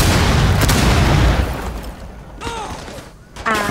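Gunfire in the video game Rainbow Six Siege: a loud dense burst of shots and booms at the start, then quieter mechanical clatter and brief tonal game sounds.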